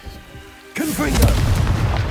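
A Confringo spell goes off in Hogwarts Legacy, a sudden loud burst that breaks from near quiet into a booming, crackling blast and keeps rumbling to the end.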